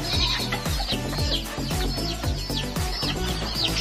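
Japanese Bantam breeder chickens in pens on a farm that also keeps goats, several birds clucking and cackling in overlapping bursts at close to moderate distance, loud and continuous with no talking.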